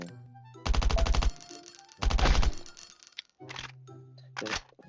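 A machine gun fires in the survival video game Last Island of Survival. There are two loud, rapid bursts of about a second each, followed later by shorter, sharper bursts, with a low hum between them.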